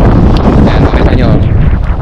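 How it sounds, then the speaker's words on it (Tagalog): Strong gusting wind buffets the microphone in a dim outdoor spot before the start of an Ironman race, a loud continuous roar and rumble filling the whole clip. "sa lakas ng hangin"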